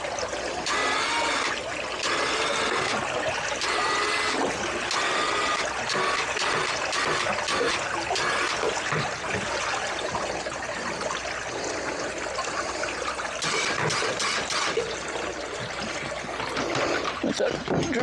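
Water draining out of a salvaged 27ft boat damaged in a hurricane, heard as a continuous close splashing, gushing flow with bursts of wind buffeting over it for the whole stretch.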